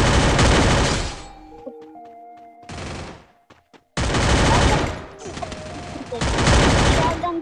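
Bursts of loud, rapid automatic gunfire from a Free Fire clash squad match crackle in several long volleys with brief gaps between them, while game tones and beeps sound in the quieter moments.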